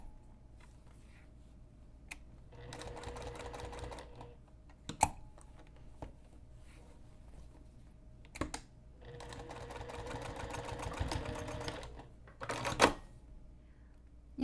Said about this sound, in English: you can just go ahead and keep sewing.